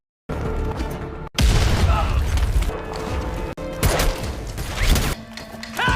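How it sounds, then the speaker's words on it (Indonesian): Grenade explosion in a war film scene, heavy booming blasts with crashing impacts and gunfire-like bursts, loud and layered over a busy soundtrack with voices. "Kapten dan satu anak buahnya, Samsul, keluar untuk melempar granat dan inilah yang terjadi"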